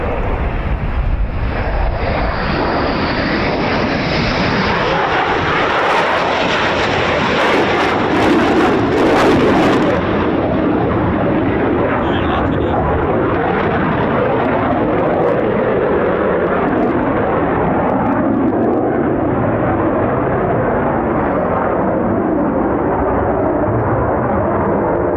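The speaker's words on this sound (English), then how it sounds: "Here comes another F-15 taxiing" A US Air Force F-15 fighter jet taxiing at RAF Lakenheath with the 48th Fighter Wing gives a loud, steady engine roar that holds for the whole stretch. Wind buffets the microphone now and then.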